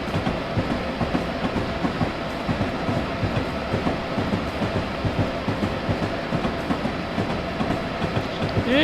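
A train in Train Simulator 2015 climbs a steep grade, giving a continuous loud rolling rumble with rhythmic clickety-clack of wheels over rail joints, steady and close with no talking.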